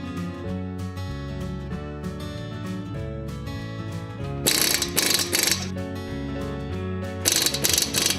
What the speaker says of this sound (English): Insert the bolts and tighten.